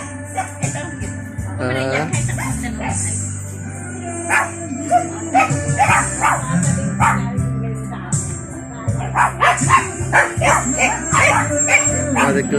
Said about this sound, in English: Let's get away from the barking dogs.